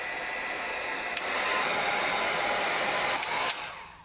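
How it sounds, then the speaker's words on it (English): A heat gun blows a steady, loud roar of hot air over a waxed leather holster to work in the wax, holding constant for several seconds before easing off at the end. "Got my heat gun. Just going to heat everything up a little bit and"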